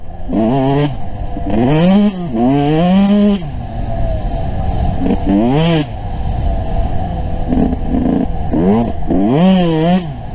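A Yamaha YZ125 two-stroke dirt bike fitted with VForce 3 reeds on a trail ride, its engine revving up and down in repeated loud rising-and-falling bursts, close to the rider, with throttle blips and a steady buzzing idle between.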